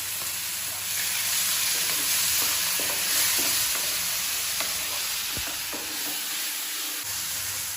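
Pointed gourd sizzles and fries in a pan with green chili, turmeric and ginger while being stirred, giving steady frying hiss and scattered scraping and clinking taps with no talking.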